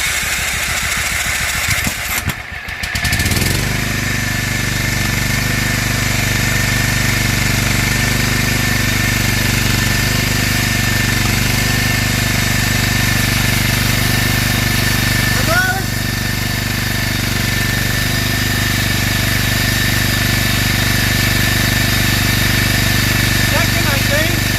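A Toro Wheel Horse 265 garden tractor engine running steadily and loudly close by, after a brief sputtering start, holding a constant droning idle throughout.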